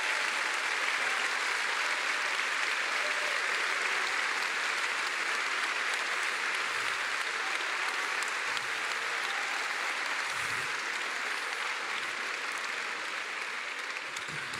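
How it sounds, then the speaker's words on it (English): A large audience at a business school graduation ceremony gives sustained applause for double degree students, a thick, continuous roar of clapping that stays loud and even for the whole stretch. "could you please stand up so that everyone can recognize your achievement with a big round of applause"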